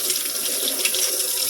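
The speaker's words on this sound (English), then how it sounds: "We're going to rinse out the sink" Water running steadily from a tap into a sink during a rinse, a close, even splashing rush with no pauses and no voices.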